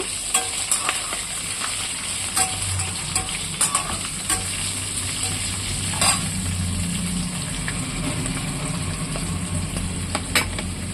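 Ridge gourd and tomato fry in oil for a roti pachadi, a steady close sizzle broken by scattered pops and utensil clicks throughout, with no talking.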